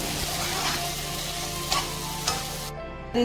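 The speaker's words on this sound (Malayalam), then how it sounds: "ചെമ്മീനവിടെ കിടന്ന് മുരിഞ്ഞ് കിടക്കുന്നുണ്ട്." A prawn mixture fries in a pan, a steady close sizzle with a couple of sharper stirring scrapes, cutting off near the end as the heat or stirring stops.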